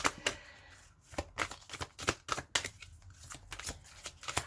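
A tarot deck shuffled close up, with a continuous series of soft slapping riffles and card clicks in an uneven rhythm and quiet overall, with no voice present.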